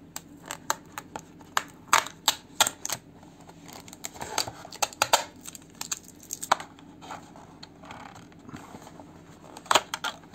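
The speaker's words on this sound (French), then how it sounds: "Je t'ai présenté la boîte, on va l'ouvrir et regarder comment c'est fait dedans." A Samsung SSD box is opened at close range: a run of sharp clicks, taps and tearing cardboard and plastic snaps, irregular and bunched, with brief quiet gaps between handling noises.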